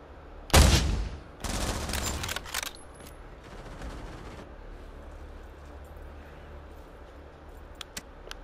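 Gunfire in the VR shooter Pavlov on PSVR2: a loud close shot, then a rapid burst of several shots, fading into quiet room tone.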